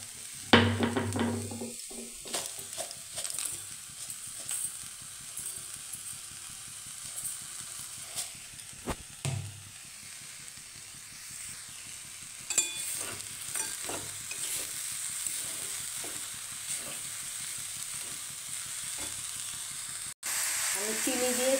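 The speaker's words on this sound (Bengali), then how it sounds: "এবার নারকেলটা আমি ভালো করে নেড়ে লাল লাল করে করে নেব" Grated coconut and sugar stirred in a wok for patishapta filling, a steady sizzle with repeated scraping strokes of a spatula throughout, close and moderately loud, with a few brief voice sounds.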